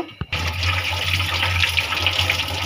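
Running tap water pours over four small potatoes being washed in a kitchen, a close, steady gushing splash that starts abruptly and continues unbroken, with no talking.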